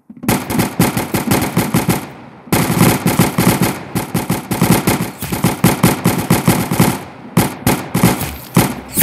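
Rapid automatic gunfire in a video game rattles in dense, fast bursts, loud and close, with a brief pause around two seconds and a choppier stretch near the end; no voices over it.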